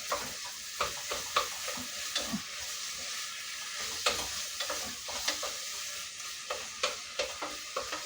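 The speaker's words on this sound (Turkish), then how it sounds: "Soğanla birlikte kavrulur kıyma." Minced meat roasting with onion in a pan sizzles softly and steadily, punctuated by regular scraping knocks of a spatula stirring the mixture.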